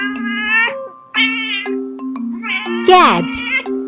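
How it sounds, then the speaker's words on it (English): A cat meows three times, loud and near. The calls are separated by short pauses, and the last one is a sharp rising and falling yowl. "cat"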